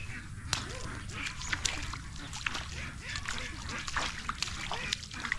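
Ducks on a farm quack intermittently amid sloshing and splashing water, with people talking nearby over the scene throughout.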